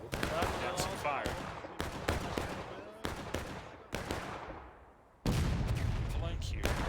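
Civil War battle gameplay with repeated musket and cannon gunfire, sharp cracks and booming volleys echoing in irregular bursts, loud and close, while a commentator talks over it.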